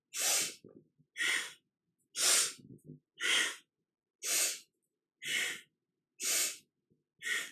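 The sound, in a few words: powerful rhythmic yogic breathing, kundalini kriya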